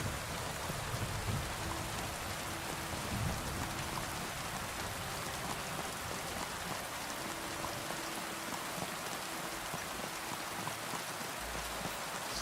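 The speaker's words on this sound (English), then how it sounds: "I love the sound of rain. I love the sound of thunder." Steady, dense rainfall patters on surfaces in the medieval game Kingdom Come Deliverance 2, a constant close wash of drops from start to finish with a faint low rumble under it.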